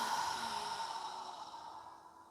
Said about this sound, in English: exhale through our mouth, breathing naturally